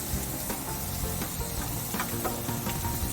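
Bologna and burgers fry on a hot griddle with a steady close sizzle and small crackling pops, and no voices.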